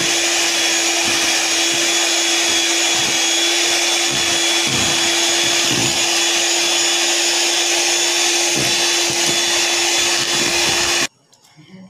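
An electric mixer whirs continuously at high speed, blending sugar into batter for a Black Forest cake, a loud, steady motor whine with slight wobbles before it abruptly cuts off near the end.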